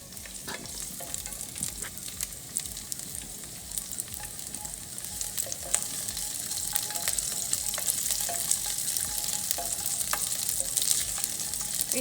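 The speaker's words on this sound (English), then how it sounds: "We saute the garlic and the ginger, but make sure they are not burned" Garlic cloves and ginger sautéing in hot oil for braised chicken feet: a dense, continuous sizzle up close, with light crackles and occasional stirring scrapes, slowly growing a little louder, no talking.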